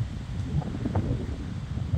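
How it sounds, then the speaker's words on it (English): Gusting wind buffets the microphone outdoors during a pigeon hunt, a steady low rumbling roar that swells and eases in gentle surges across the whole stretch, with no talk. "Even though the wind is gusting"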